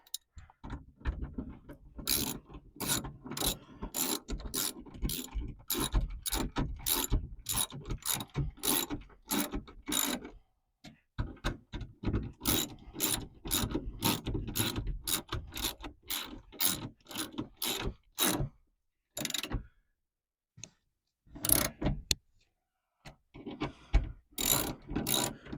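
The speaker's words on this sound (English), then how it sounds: "Get my ratchet." Repeated sharp clicks of a ratchet driving screws into the clips of a Ford F250 back center window, in steady bursts with short pauses, close up and alone.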